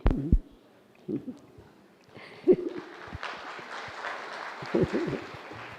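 Audience clapping breaks out, starting sparse with a few isolated thuds and then swelling into a steady, moderate patter of many hands.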